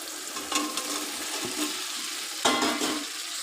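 Potatoes for aloo dum added to hot oil in a pan, a continuous close frying sizzle with a couple of scraping stirs and clinks, no voices.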